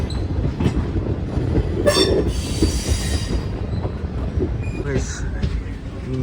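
The Jan Shatabdi Express rolls along rails on the Tambaram–Trichy line with continuous clattering wheels and a brief high metallic squeal, while voices talk over the running noise.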